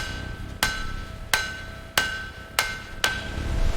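Metal is struck by a hammer five times at uneven intervals, each a sharp ringing clang over a quiet background.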